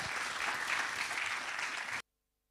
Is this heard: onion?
no